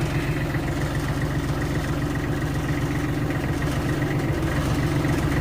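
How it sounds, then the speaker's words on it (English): A tractor engine idles steadily at close range, a constant low rumble with an even, rapid pulse that holds for the whole stretch with no voices. "Back on the tractor again."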